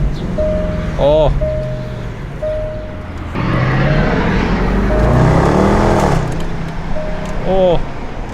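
A rebuilt Range Rover Sport drives along with a steady engine and road hum that rises and swells partway through. It is heard from inside, with voices calling out over the drive.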